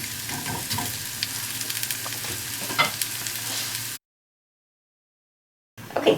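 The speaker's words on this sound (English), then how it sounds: "we're going to saute these until they're translucent" Onions sautéing in a pan until translucent for a pear, bacon and goat cheese tart give a steady close sizzle with stirring scrapes, which cuts to silence and then briefly returns.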